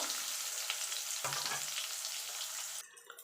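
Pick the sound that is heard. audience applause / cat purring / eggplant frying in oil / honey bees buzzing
eggplant frying in oil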